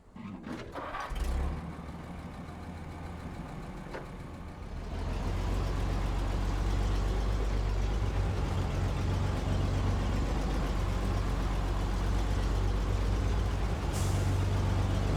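A heavy truck on a steep quarry road, geared down with the diff locks engaged, with a sharp air hiss at the start, then the diesel engine rumbling and swelling into a steady low labouring drone.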